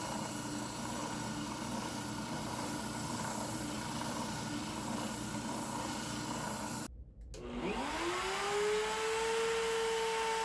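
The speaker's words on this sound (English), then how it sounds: "spindle sander that I will use to sand all the edges and get them down to the template lines that I traced earlier" A spindle sander whirs steadily while sanding wood edges down to traced template lines. The motor cuts out briefly, then spins back up with a rising whine that settles into a loud, steady hum.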